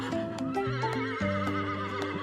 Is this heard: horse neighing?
yes